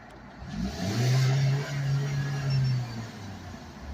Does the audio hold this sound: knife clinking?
no